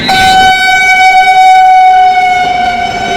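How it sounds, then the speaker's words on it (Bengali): The Rajdhani Express passes on Indian railways, its loud horn blaring in a long sustained tone close by, then fading as the train rolls on. "পাস করছে রাজধানী এক্সপ্রেস"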